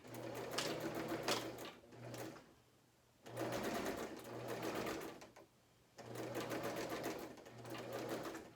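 A sewing machine runs a zigzag stitch on a fabric medical mask in three sustained bursts of fast, steady mechanical chatter, each separated by a short quiet pause, fairly close and clear with no talking.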